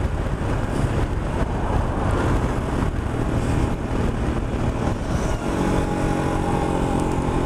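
A single-cylinder Royal Enfield Himalayan motorcycle engine drones steadily while riding, heavily buffeted by loud wind noise across the microphone, with the engine note shifting toward the end.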